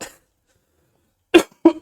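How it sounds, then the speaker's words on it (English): A person with a lingering chest infection gives a short burst of close, loud coughs, two sharp hacks after a faint earlier one, in an otherwise quiet room. "Sorry about the coughing."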